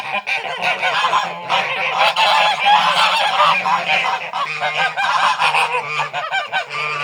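A flock of geese honks loudly and continuously close by, with overlapping calls throughout.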